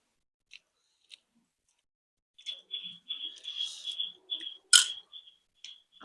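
Close, wet chewing and biting sounds while spicy steamed momos are eaten during an eating challenge, starting with a couple of isolated clicks and then a run of bursts with short pauses.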